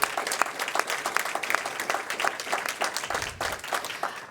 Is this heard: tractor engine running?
no